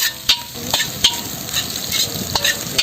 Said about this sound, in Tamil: இந்த முட்டைக்கோசு வெங்காயம் அதெல்லாம் நம்ம வந்து அப்படி எண்ணெயிலே வதக்கிக்கணும்